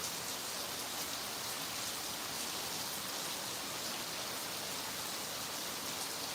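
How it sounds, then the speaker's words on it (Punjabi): A downpour drums steadily on a house and its surroundings, a loud, constant wash of rain with no pauses and no one speaking. "ਮੂਸਲਾਧਾਰ بارش ਹੈ ਜਿਹੜੀ"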